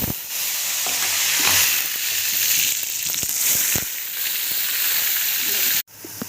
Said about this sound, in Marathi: आपलं तेल गरम झालेलं आहे. आता त्याच्यामध्ये आपण हे काढलेला मसाला, कांदा, लसूण, अद्रक पेस्ट हा घालूया.